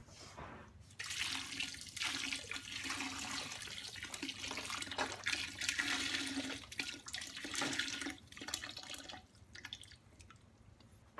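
Water pours steadily into a pot of vegetable beef soup for about ten seconds, a continuous splashing stream with no talk.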